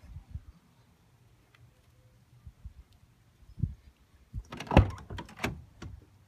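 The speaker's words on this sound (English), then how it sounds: "All the doors open and close really solid." Car doors on a Volkswagen Mk4 R32 open and shut at close range, with a single thud followed by a cluster of solid latching clunks and rattles over a quiet background.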